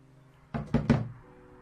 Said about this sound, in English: so knock on the door maybe.